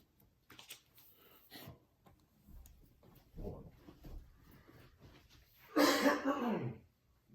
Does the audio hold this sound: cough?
yes